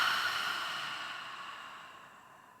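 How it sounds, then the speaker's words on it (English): A single slow exhale through an open mouth during a yoga breathing cue, soft and breathy, fading gradually over a couple of seconds with no talking. "Open mouth, exhale."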